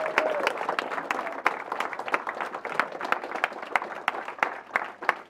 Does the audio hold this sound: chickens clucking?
no